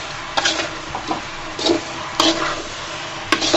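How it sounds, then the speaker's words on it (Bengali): Raw mango pieces stirred into melted sugar in a pan, a soft continuous sizzle broken by a few brief scraping stirs, close and fairly quiet. "সুন্দর করে নেড়ে চেড়ে দিব।"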